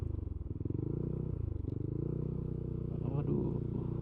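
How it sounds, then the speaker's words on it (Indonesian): Motorcycles and cars go by on a busy road while a trail runner moves along it, a steady close engine rumble with putting motorcycle idle and rising traffic noise, under a person talking. "Mobil dan motor"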